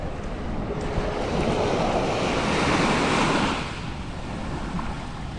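Ocean surf rolls in at a beach where a kayak is about to launch, a loud, close rush of breaking waves with wind buffeting the microphone, easing off toward the end.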